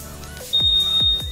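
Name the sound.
Honda Scoopy 2021 scooter buzzer beeping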